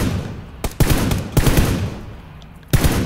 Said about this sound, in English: Are we firing? Yeah.